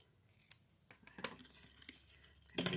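Scissors snip through card-making paper in a few quick, separate cuts at close range, each a short crisp slice with faint handling noise between them, quiet overall and without speech.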